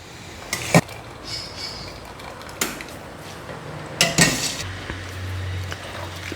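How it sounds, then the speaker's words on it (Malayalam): Cooked pasta tipped from a pot into tomato sauce in a separate pan, a few sharp metallic clanks and scrapes with soft wet rustling between them, close by and moderately loud, no talking. "സോസിലേക്ക് പാസ്ത ഊറ്റിയിടാണ് കേട്ടോ"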